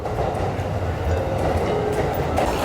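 A crowded rush-hour commuter train in Tokyo rumbles loudly and steadily close at hand, with a low continuous roll of wheels and carriage noise and no voices.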